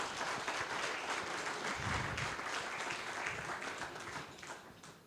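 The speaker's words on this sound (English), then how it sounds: "A round of applause, first of all." An audience at a speech event giving a round of applause, dense clapping sustained at an even level throughout, heard from some distance in the room.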